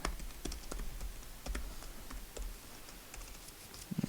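Quiet, quick keystrokes click on a computer keyboard while code for a SA-MP game mode is typed, an irregular patter of taps with no voices.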